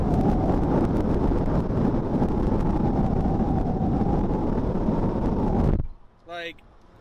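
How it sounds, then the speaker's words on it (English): Steady, loud roaring wind buffets the microphone from the open windows of a moving Subaru WRX driving through a neighborhood, then cuts off abruptly, leaving a quiet cabin with a short murmur of voice. "all you hear is wind noise, like, with the windows down"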